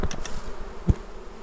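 Honey bees buzz around an open hive carrying honey supers, a close, continuous hum with a brief knock partway through.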